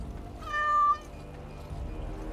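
A single clear cat meow rises briefly in a fantasy role-playing game, Dragon Age: Origins - Awakening, set against a quiet ambient background.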